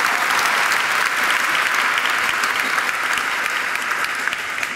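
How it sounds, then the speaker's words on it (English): A large crowd at a Hispanic Heritage Month closing ceremony claps steadily and loudly, a dense continuous wash of applause throughout with no pauses. "Can I get an applause, please?"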